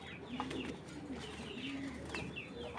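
Pigeons kept by a breeder, soft repeated cooing calls near at hand over a quiet background, with a few faint chirps mixed in.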